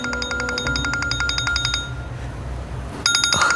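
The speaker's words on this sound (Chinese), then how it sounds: "我接个电话。" A telephone rings in rapid repeated electronic trills, stopping briefly and then starting again, loud and close over low background murmur.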